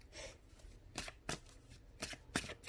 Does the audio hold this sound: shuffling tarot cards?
yes